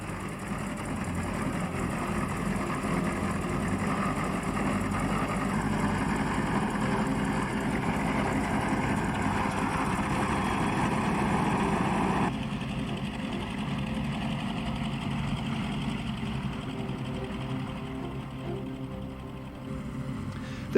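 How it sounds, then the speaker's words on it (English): Continuous droning of two Bristol Mercury aircraft piston engines running steadily at Duxford Aerodrome for the whole stretch, loud and sustained, with a slight drop in tone partway through. "The glorious sound of 2 Bristol Mercury engines tore through the quiet of Duxford Aerodrome."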